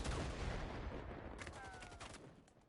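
A burst of rapid gunfire in a pro league esports match crackles at close range, then fades into scattered pops and a short high tone.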